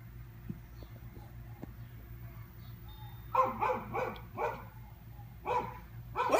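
A dog barks in a series of five or six sharp, medium-distance barks with short gaps, standing out over a quiet room hum.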